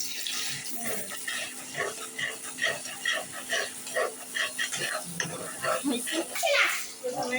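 Egg frying in a pan for chow mein, a steady watery hiss running through the whole stretch with scattered faint clinks and bubbling pops, while a voice talks over it.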